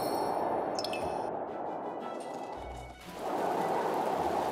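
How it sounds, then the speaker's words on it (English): Soft, continuous video-game rain wash with a brief dip and a few faint dripping and squishy bits, fairly even throughout. "Alright, it's raining."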